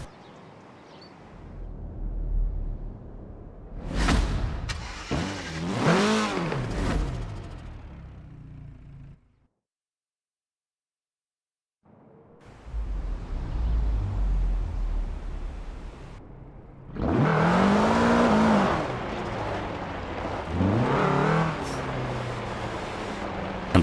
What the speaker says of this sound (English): Without further ado, let's go for a drive.